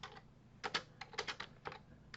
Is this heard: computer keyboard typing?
yes